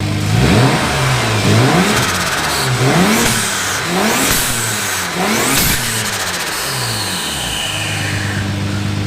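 A Ford Capri fitted with a 5-litre Mercedes V8 revs loudly up close, with several rising and falling throttle blips in a row before settling toward a steady idle.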